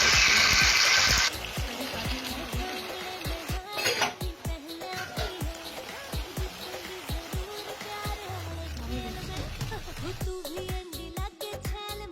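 Spiced meat and ingredients being stirred in a pot for a thin potato and meat curry, with repeated metal spoon scrapes and clinks against the pot in an uneven rhythm, plus a brief hiss of running water at the start.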